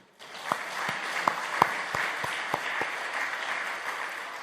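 A seated audience at a church denomination's general assembly lecture breaks into sustained, even applause lasting several seconds, with a few sharper individual claps standing out near the front and no speech over it.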